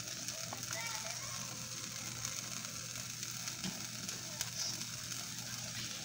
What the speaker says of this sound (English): And it's gonna start sizzling